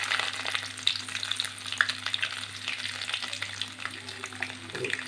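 Finely chopped ginger and garlic frying in hot oil with cardamom for an egg stew, a continuous close crackling sizzle with small pops and light stirring throughout.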